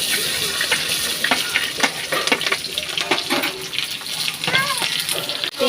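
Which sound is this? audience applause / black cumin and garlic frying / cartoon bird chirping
black cumin and garlic frying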